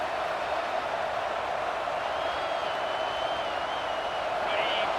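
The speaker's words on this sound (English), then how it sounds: "This crowd trying to make life miserable for this offense." Steady stadium crowd roar from a college football video game, South Carolina playing at Oklahoma, a dense, continuous wash of noise with no breaks.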